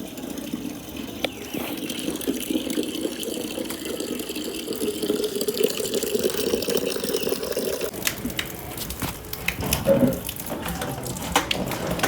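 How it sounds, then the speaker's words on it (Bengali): Water runs from a tap into a container being filled, a steady gushing rush that carries on for several seconds and then breaks into splashy, uneven pouring near the end, with no voices. "আর এখন জলটা ভরে নিয়ে যাচ্ছি"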